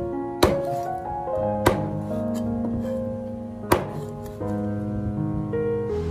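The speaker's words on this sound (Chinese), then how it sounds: "我们再用刀把它们剁成小块。" A cleaver chops fish bones into small pieces on a board, giving three sharp, separate thuds spaced about a second or two apart over quiet background music.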